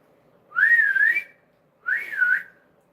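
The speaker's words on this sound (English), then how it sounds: "That's how we whistle." Two clear whistled notes from a person, each about a second long with a wavering pitch, separated by a short silence.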